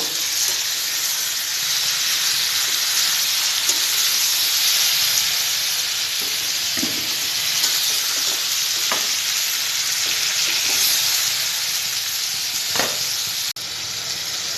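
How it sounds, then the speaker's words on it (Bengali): Pieces of sweet pumpkin fry in hot oil, giving a loud, steady sizzle and hiss close by, broken by occasional scrapes and clinks of stirring throughout and no speech. "এবার মিষ্টি কুমড়াটা লাল লাল করে ভেজে ভেজে নিলাম"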